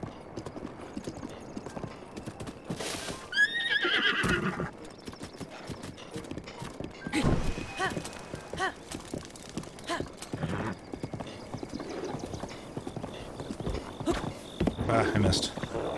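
A horse in Breath of the Wild clip-clops along at a fast, rhythmic pace, breaking into a loud whinny partway through, with hoofbeats continuing steadily and mid-distance throughout.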